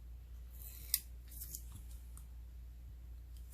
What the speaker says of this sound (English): I'm going to pull the tape, the